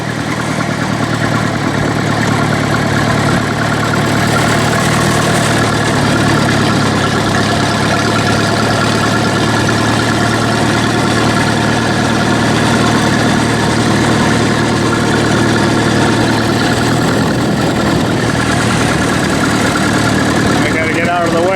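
A Minneapolis Moline 602 tractor engine idles loud and close, a steady unbroken rumble with a constant throb and vibration that continues throughout without pause.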